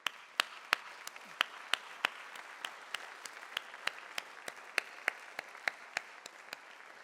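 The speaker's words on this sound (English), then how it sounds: "so if you can just a round of applause" An audience at a physics conference applauds the logistics staff with sparse, distinct claps in a steady rhythm, fairly faint and heard from a distance, with no talk over it.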